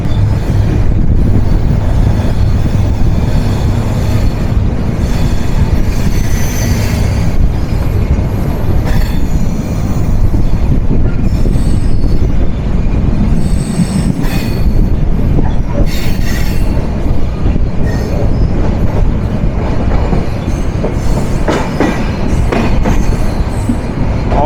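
The 754 SilkCity Express from Rajshahi to Dhaka rolls through a rail curve, a loud continuous rumble with clattering wheels and drawn-out metallic squeals, heard close from on board.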